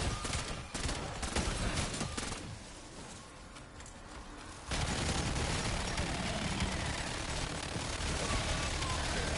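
Dense rapid gunfire rattles through a Zombies video game, a continuous loud barrage that dips briefly in the middle before resuming at full intensity, with heavy booming bursts throughout.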